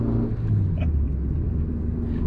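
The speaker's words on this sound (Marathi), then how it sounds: "टेम्पो चाललेला आहे बाजूने" A tempo truck loaded with eggs rumbles along close beside on the road, a steady low engine drone over a brief stretch.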